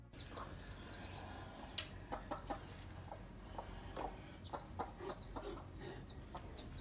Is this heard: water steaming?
no